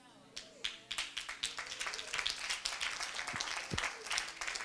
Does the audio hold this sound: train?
no